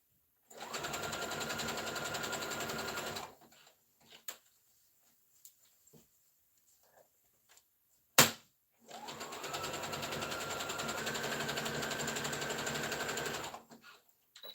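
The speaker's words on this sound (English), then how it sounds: "Then I'm gonna back stitch it." A sewing machine stitches a hair bonnet in two long steady runs of rapid mechanical whirring, separated by a quiet pause with small clicks and one sharp knock; no voices.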